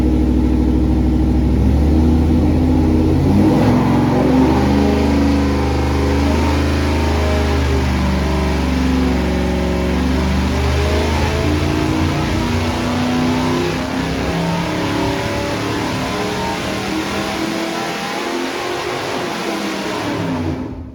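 A 350 small-block Chevy V8 on a dyno roars loudly at sustained high revs, its pitch climbing steadily through the pull before the engine winds down near the end. No one talks.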